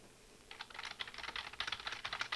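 Rapid clicking of keys on a computer keyboard, a steady run of typing strokes with brief pauses, close and fairly quiet with no voices.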